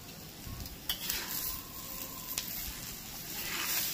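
Grated potatoes being mixed thoroughly by hand in a bowl, a steady close rustling and squishing texture with a few sharp clicks, no talking.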